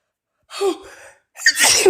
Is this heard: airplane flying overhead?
no